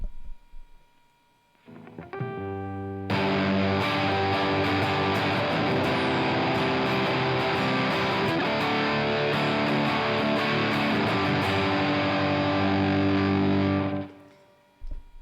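A heavily distorted electric guitar played through a DOD Gonkulator pedal rings out in sustained, buzzing chords, loud and dense, building after a brief quieter start and cutting off near the end.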